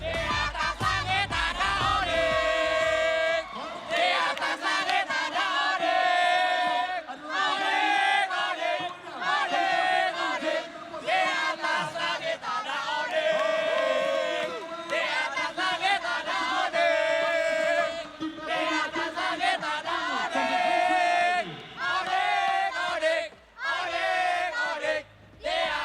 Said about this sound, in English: can we hear the chant or the cheer for Team Onyx?